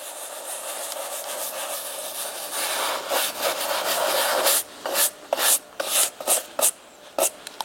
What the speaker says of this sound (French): Terminez en dépoussiérant avec une brosse à poils souple, ce qui permettra également d'aérer les fibres.